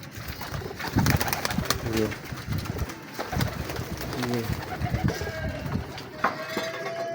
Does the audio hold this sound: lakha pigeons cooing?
yes